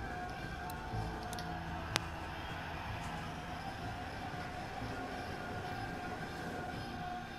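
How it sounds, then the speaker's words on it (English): A moving train in The Walking Dead Telltale game rumbles steadily with a constant rolling drone, faint clanks and a brief metallic squeal, quiet and even throughout. "We need to stop this train."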